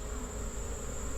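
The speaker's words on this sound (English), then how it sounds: "Seems like a whole lot of bees." Honey bees in the bottom box of a hive during a late August inspection, a dense, continuous close-up buzz with a steady hum and no talking.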